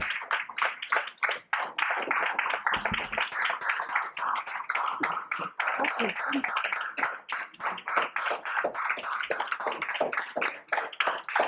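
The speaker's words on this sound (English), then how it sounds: "May I request every one of you to give her a big round of applause." Sustained round of applause from an audience at an academic panel event on ecological ethics, dense steady clapping filling the whole stretch with a few scattered louder claps.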